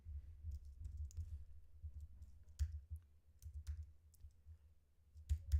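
Typing on a computer keyboard, an irregular run of soft clicks and key taps with a few sharper strokes, close and quiet, with no one speaking.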